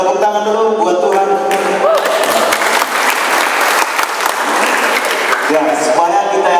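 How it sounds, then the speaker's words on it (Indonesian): Audience applause at a stand-up comedy show, loud and sustained crowd clapping with a performer's voice and music-like tones layered over it, mixed closely with talk. "tepuk tangan dulu buat Tuhan"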